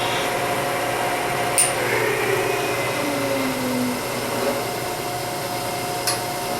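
A wood lathe turns a wooden ring with a steady motor hum and whirring, and faint tool scraping and a couple of brief high clicks over it.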